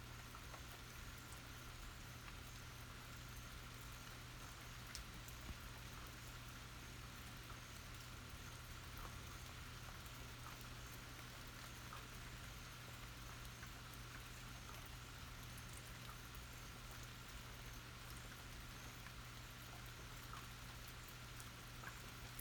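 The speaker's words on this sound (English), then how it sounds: "So I think it's just rain." Steady rain falling, an even, continuous hiss of drops that holds unchanged throughout with no voices over it.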